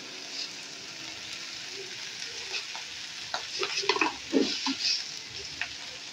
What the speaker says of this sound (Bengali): একটু ভাজা ভাজা হয়ে গেছে, দেখুন খুব বেশি ভাজার প্রয়োজন নেই।